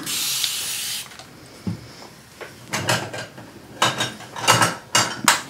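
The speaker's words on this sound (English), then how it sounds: "paints are getting sticky. So I just need to spray them." A spray bottle fires a series of quick hissing bursts of water onto sticky acrylic paints, close up, after one longer spray and a soft knock.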